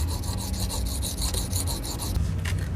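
Saw-blade knife sharpened on the fine face of a whetstone, a steady rhythmic rasping of strokes repeating roughly every fifth of a second, close and fairly loud, with no voice over it.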